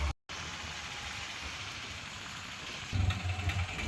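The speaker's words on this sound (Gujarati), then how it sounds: "જો અંધારો વરસાદ અત્યારે વરસાદ" Rain falls steadily as a constant broad hiss at a temple area in Bhavnath, Junagadh, with a low rumble swelling near the end, likely from a passing engine.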